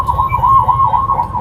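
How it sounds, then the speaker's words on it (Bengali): Ambulance siren on a busy Dhaka street, a loud continuous wailing tone rising and falling in quick regular cycles, steady over rumbling traffic. "পিছনে অ্যাম্বুলেন্সের শব্দ।"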